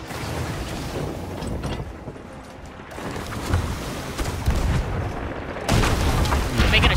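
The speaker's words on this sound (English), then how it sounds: "Hey, they're behind us shooting." Cannons fire on a pirate ship in the Sea of Thieves game, a series of heavy booms and impacts over rushing sea and wind noise, loud and repeated across the scene.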